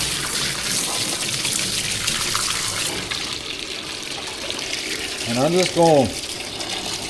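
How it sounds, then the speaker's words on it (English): Tap water gushes steadily over a sodium sulfate cake in a container while someone speaks over the flow. "to run water through this cake enough to get the majority of the rest of that sodium sulfate off of it."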